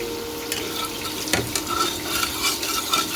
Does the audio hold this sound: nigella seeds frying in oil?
yes